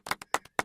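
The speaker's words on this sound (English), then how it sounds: "You know he can't fucking hear you clapping." Hand clapping from a person: four sharp, close claps in an uneven rhythm, some doubled, with brief silences between and no talk.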